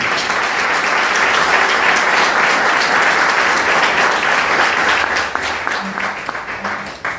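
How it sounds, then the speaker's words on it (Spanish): A church congregation applauds loudly and steadily during a worship service, a dense wash of many hands clapping that holds strong before thinning slightly toward the end. "Levanta ese aplauso bien fuerte al Rey."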